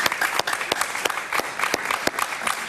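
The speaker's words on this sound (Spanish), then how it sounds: "un aplauso para Marién." Studio audience applause on a Venezuelan political talk show, a dense wash of many hands clapping steadily and fairly loud, with sharper individual claps standing out through the crowd.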